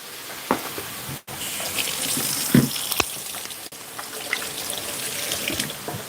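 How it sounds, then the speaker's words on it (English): Water runs from a kitchen tap as hands are washed mid-cooking, a steady close splashing gush with brief interruptions and no speech. "Let me wash my hands real quick."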